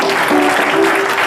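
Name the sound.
audience applauding Sister Rose at a spiritual concert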